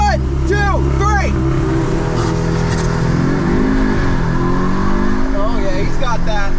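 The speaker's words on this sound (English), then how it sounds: "I'm going to rev it and then I'll listen to your noises and let go" An Audi S3 engine revs hard and then launches under launch control in a dig race, a loud, close, sustained roar with rising pitch, while people talk over it.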